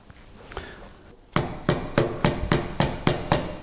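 Hammer tapping a chisel into the end of a hardwood hammer handle to cut a wedge slot: a faint tap, then about seven sharp, evenly spaced strikes, close and loud, with no talking.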